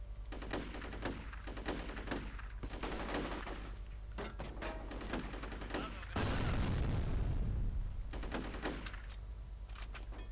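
Rapid bursts of video game gunfire from the shooter F.E.A.R., repeated volleys crackling loudly over a dense, continuous background of game sound and music.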